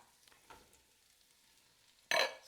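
Onions and other vegetables hit hot olive oil in a pan with a sudden loud sizzle near the end, after a quiet stretch with soft stirring.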